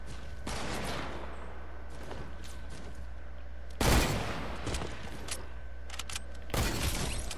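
Gunfire in a shooter video game: scattered rapid shots crackle under a low steady hum, with two loud close bursts standing out partway through and near the end.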